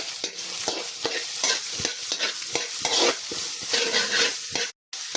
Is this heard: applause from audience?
no